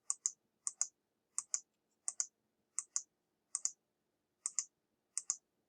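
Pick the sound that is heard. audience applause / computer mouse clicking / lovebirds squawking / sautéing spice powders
computer mouse clicking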